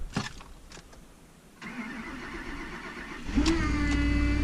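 A truck's LS4 engine cranks with a whirring starter, then catches and settles into a loud, steady idle with a high whine on top.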